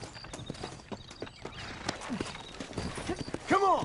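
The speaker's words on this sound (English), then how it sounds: "Looks like Carlos left us some horses" Rapid clip-clopping of horse hooves at a quick pace in the video game Red Dead Redemption, with a shrill neigh near the end, all fairly close.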